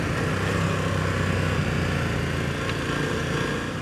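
A big adventure motorcycle ridden along a trail in Norway, its engine droning steadily and loudly with broadband wind and road noise throughout.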